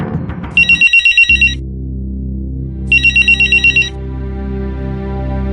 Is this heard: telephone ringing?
yes